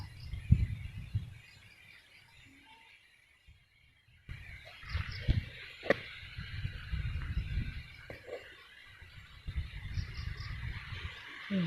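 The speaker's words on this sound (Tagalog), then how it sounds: "Tahimik sa bukid. Hangin lang at mga ibon. Yan, malakas ang hangin." Strong wind gusts across open farmland in the rural Philippine countryside, buffeting with heavy low rumbles that drop out briefly and then return, while faint bird calls chirp in the background.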